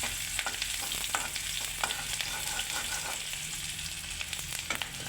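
Onion and garlic frying over a wood-fired stove in a village kitchen, a dense continuous crackling sizzle with frequent small ticks and pops, close up and steady, no speech.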